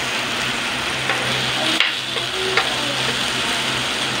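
Eggplant omelette (tortang talong) sizzling on an Imarflex 8-in-1 electric griller, a steady close frying hiss with a couple of faint clicks and no talk.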